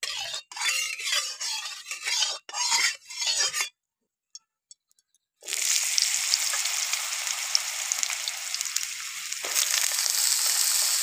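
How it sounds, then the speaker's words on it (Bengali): Thin-sliced potato and eggplant hit hot oil in a wok over a lit stove and crackle in a loud, steady sizzle. Spoken words come first, then a short silence before the frying starts. "আলু বেগুনটা ভেজে নেবো।"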